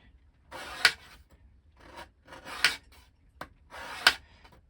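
Scraper cutting a channel in wood for a ship model, four or five separate close scraping strokes, each short and gritty, with brief quiet gaps between them.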